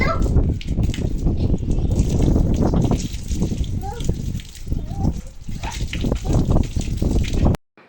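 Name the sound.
children playing with water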